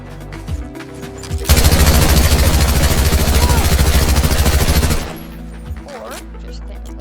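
A turret in the Zombie Tycoon video game fires one long, loud, continuous rapid burst lasting several seconds, then cuts off into quieter background sounds with faint voices.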